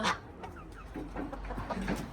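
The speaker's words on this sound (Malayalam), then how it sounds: "ഇവിടെ വലയൊക്കെ ഇട്ടിട്ട് കുറേ കോഴികളെ വളർത്തിയിട്ടുണ്ട്." Chickens kept in a netted pen in a Chinese village cluck softly and intermittently, a few quiet, close calls over a faint low background hum.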